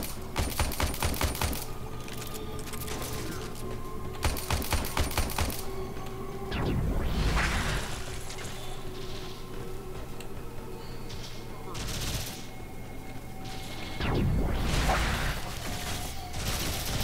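Rifle shots from a long-range gun in the sci-fi shooter Warframe ring out in rapid bursts of sharp cracks, separated by pauses, with someone talking over part of the firing.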